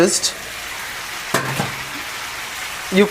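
Sweet pumpkin frying in a pan sizzles steadily and close throughout, with a brief clatter of stirring partway through and a few light knocks near the end.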